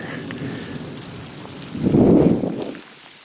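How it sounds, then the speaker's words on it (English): Thunder rumbles loudly through a steady downpour during a nighttime storm with a tornado watch in Knox City, Texas, the low roll swelling near the middle and then dying away while rain keeps falling. "Just listen to that thunder."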